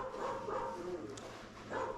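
A dog barks and yips from a television in a home, low and muffled beneath people talking nearby.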